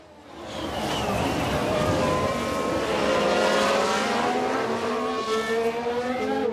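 Formula 1 cars in the F1 Manager 2022 video game, among them an Alfa Romeo, scream past nearby with rising and falling engine whines that overlap, swell, then fade.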